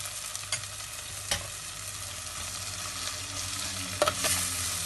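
Coriander and turmeric powder are stirred into a Kerala fish curry in a pan, a soft continuous sizzle broken by a few sharp spoon scrapes and clinks.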